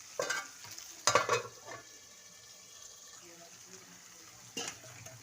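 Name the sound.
potatoes frying in a pan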